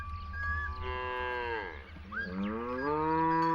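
A completely black Bijogo head of cattle, from the White Nile region, lets out one long, drawn-out moo that rises and falls. The call is fairly close and heard alone, with no talking.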